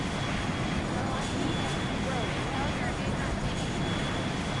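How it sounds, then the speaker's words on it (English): Steady airplane engine drone from a plane flying in the VR game Yeeps, a continuous broadband roar that fills the whole clip, with players chatting over it. "Yo, look at my airplane."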